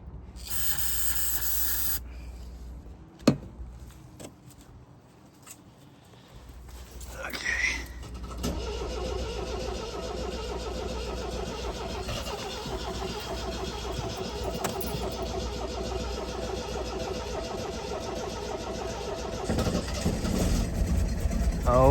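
A 1980 MGB Limited Edition Roadster, unrun for 26 years, cranks with a few stuttering attempts, then catches and settles into a steady rough idle, loud and close, with people talking over it.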